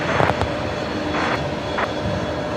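A jet airliner rolls for takeoff on runway 19 right at Brisbane Airport, a broad steady engine roar heard at a distance, with brief sharper bursts layered over it.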